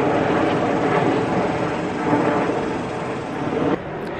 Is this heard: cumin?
no